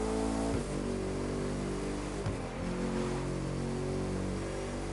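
A hypercar engine drones steadily during a race in The Crew 2, a dense continuous roar with layered harmonic tones and a brief dip partway through, loud and close with no talking.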